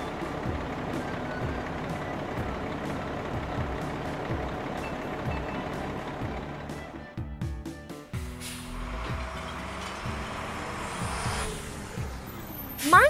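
A large truck engine rumbles steadily, with mechanical clanks and a hiss of air brakes, then reversing beeps and clatter toward the end.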